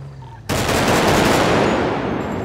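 Dense, loud gunfire in a multiplayer roleplay video game bursts in abruptly and continues as a sustained, rapid barrage of overlapping shots close by, with no talk.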